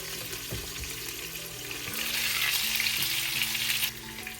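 Chicken strips frying in lard give a steady, dense sizzle that swells louder midway, with a few soft clinks and knocks from the pan near the start, close by and with no voices.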